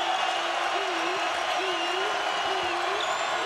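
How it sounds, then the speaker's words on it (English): Utah State Aggie fans in blue stand and roar at an NCAA basketball game in Boise against Marquette. A dense, steady crowd noise fills the whole moment, with no single standout cheer. "You can hear the crowd. Big blue Aggie fans on their feet in Boise."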